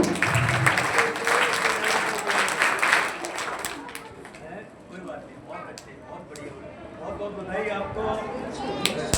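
An audience at an annual exam results ceremony bursts into applause for a top-ranking student. The clapping is strong for about four seconds, then thins out as talking and murmurs take over.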